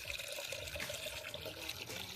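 Water runs and trickles steadily, a faint continuous splashing flow like a tap filling a vessel, with no speech over it.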